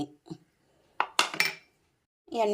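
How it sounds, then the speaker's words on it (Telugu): Prepared vegetables for an aloo chana salad tipped into a bowl, giving a few clinks and soft thuds of pieces landing, close and clear, with a short voice between. "తర్వాత ఈ వెజిటేబుల్స్ అన్నీ వేసుకోవాలి"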